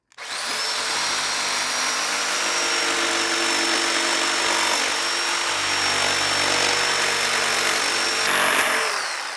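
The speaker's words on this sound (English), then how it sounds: "The easiest thing to use is a jigsaw and just follow the line." A jigsaw cutting three inches off the top of a panel, running loud and steady for several seconds with a high whine over a buzzing rasp, then stopping.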